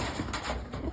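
A pigeon coos steadily through a busy outdoor soundscape, its low murmuring calls close by and continuous, with no talking.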